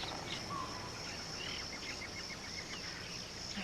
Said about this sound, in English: Birds. I hear insects.